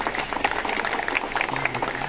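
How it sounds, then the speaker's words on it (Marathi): Audience applause at a welcoming ceremony for a guest being honoured with a bouquet, shawl and coconut, a dense steady burst of many hands clapping close by, with faint voices mixed in. "जोरदार टाळ्या."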